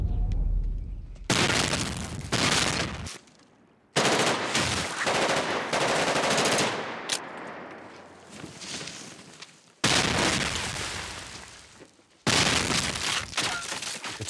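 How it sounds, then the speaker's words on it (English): Film scene from Public Enemies with a 10-gauge shotgun firing amid a loud, dense gun battle: bursts of rapid gunfire and shattering glass, broken by brief silences. "Winstead top-loading a 10-gauge shotgun and going into a body roll, all at the same time coming up firing."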